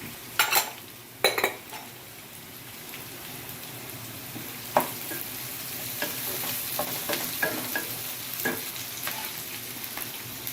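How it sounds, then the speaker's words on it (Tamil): Large and small onions with green chillies sauté in a pan for a Chettinad prawn gravy, a steady sizzle with clattering utensil scrapes and stirring bursts, loudest at the start. "நல்லா வதங்கட்டும் கொஞ்ச நேரமாக வந்தால் தான் நல்லாயிருக்கும் டேஸ்ட்டு"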